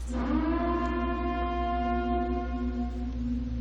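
A long, steady wailing warning siren from a film drones at one sustained pitch, loud and continuous, with no talking.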